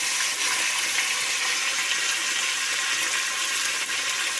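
Garlic cloves and tempering seeds fry in a generous amount of hot oil, making a steady, dense sizzling hiss that fills the whole stretch with no talk.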